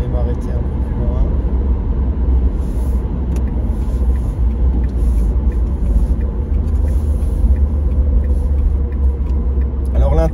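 Small-engined 2021 Renault Twingo on the road: a constant low rumble of engine and road noise inside the car, steady and moderately loud throughout with no clear gear changes.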